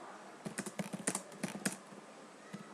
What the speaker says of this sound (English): here you just have to type sign in